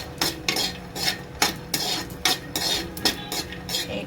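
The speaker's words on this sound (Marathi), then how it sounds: "एकदम नॉर्मल भाजून घ्यायचे, एकदम जास्त नाही, फक्त तेलावरती थोडेसे गरम करून घ्यायचे" Peanuts roasting in oil in a pan while being stirred, with repeated scraping and clinking strokes about twice a second over a soft sizzle, close and without talk.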